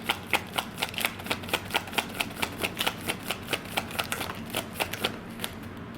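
Tarot cards being shuffled in a steady riffle of crisp, rapid flicks, close and fairly loud, with a clear rhythmic patter throughout and no voices.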